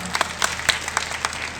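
Applause from a crowd at a Hindi poetry recital, a short burst of scattered, sharp hand claps of moderate loudness.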